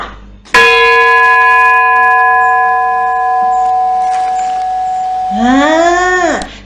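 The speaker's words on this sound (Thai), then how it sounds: "เสียงของระฆังค่ะ" A single loud bell strike rings out and sustains with a long shimmering decay, followed by a short bright wavering tone near the end.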